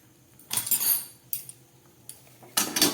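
Chana dal cooking down in a pan is stirred with a metal utensil, giving four short bursts of scraping and clinking against the pan with quiet gaps between them.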